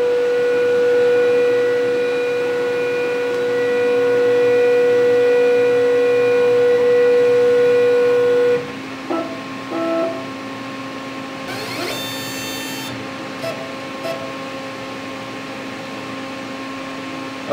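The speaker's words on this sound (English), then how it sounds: "the X and Y axis just homed properly and the machine is on" A laser cutter under restoration, its electronics just repaired, homes its X and Y axes: a steady tonal hum and fan drone cut out, followed by a few clicks, a brief high-pitched motor whine, then scattered ticks, close and alone without speech.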